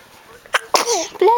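A small child sneezes near the microphone while playing with a balloon at home, a short sharp burst followed by a brief voiced tail, with quiet room sound before it.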